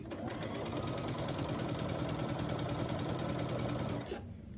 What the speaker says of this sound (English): I'm gonna stitch down this line at 1/4 inch.